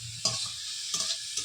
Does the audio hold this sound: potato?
yes